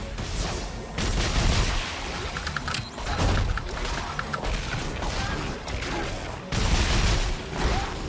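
Gunfire in Dead Space 3 comes as repeated bursts of shots and mechanical clanks with booming impacts. It runs loud and continuous across several seconds, with brief lulls between volleys.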